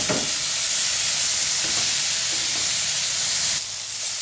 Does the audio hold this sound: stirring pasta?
yes